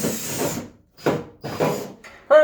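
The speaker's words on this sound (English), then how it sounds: "So I'm going to drill a hole in that region" A handheld power drill bores a hole, in three short bursts of whirring with brief pauses between them and a sharp whine at the end, close and loud.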